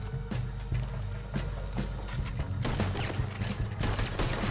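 Gunfire in Red Dead Redemption 2: a rapid run of sharp shots cracks out at uneven intervals, several loud reports bunched close together over a few seconds amid game action.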